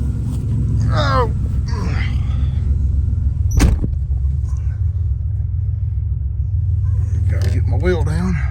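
An abandoned one-owner turbo Buick Grand National with 32,000 miles rumbles steadily at low pitch as it is driven, with a single sharp thump midway and people exclaiming over the engine.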